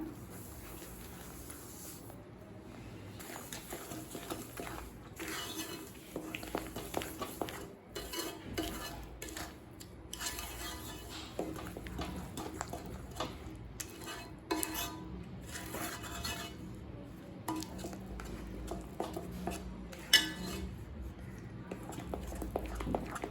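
Moong dal halwa is stirred in a pan with ghee, a spoon scraping and clinking against the metal in soft, irregular strokes, faint and close, with occasional light sizzling.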